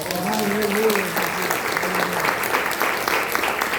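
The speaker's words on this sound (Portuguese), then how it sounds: "Você pode aplaudir o nome do Senhor." A church congregation at a family worship service applauds, a steady close wash of clapping with a voice briefly heard over it at the start.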